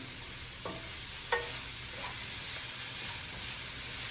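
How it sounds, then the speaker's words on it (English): Red onions, peas, sausage and mushrooms sauté in a pan with a steady low sizzle, broken by a few sharp clinks from stirring. "we're gonna let this saute for a quick minute"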